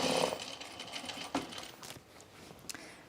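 A sewing machine runs a shorter stitch length around the curve of a dress, a steady mechanical whir in short close bursts with small clicks between runs.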